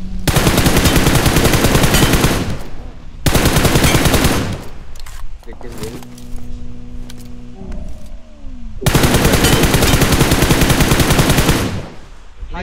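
Loud sustained machine-gun bursts from a mobile battle-royale shooting game, two long dense volleys bracketing a quieter stretch with game interface tones and faint voice chat.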